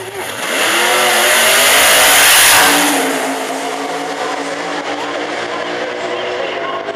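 A street car engine revs hard and close, a heavy rising roar that peaks, then settles into a lower throbbing idle.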